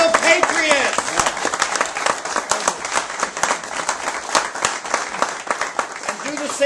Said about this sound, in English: Let's give them a round of applause for being real patriots.